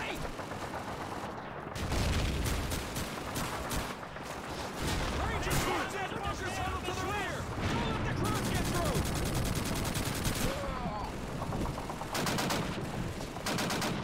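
A Browning Automatic Rifle fires in a Call of Duty 2 D-Day beach defense, loud repeated automatic bursts over a din of distant battle gunfire and explosions, with a player talking throughout.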